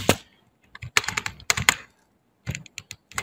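Typing a short AutoCAD command on a computer keyboard: bursts of crisp, close key clicks in quick uneven clusters, with a brief pause before a final few keystrokes.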